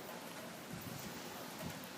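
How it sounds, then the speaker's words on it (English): Steady rain falls outside a building under construction, a soft continuous broadband hiss with no distinct drops or voices, faint and even throughout. "Rainy day today."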